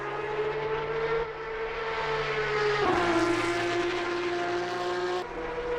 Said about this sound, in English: They do sound nice, these new Porsche Cup cars.